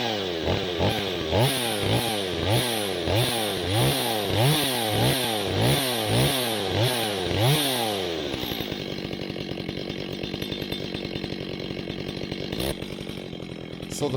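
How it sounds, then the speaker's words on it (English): A nearby STIHL 025 chainsaw engine revs up and down in a repeating rhythm while warming up, then settles into a steady, rattling idle. "let's get my chainsaw fired up here"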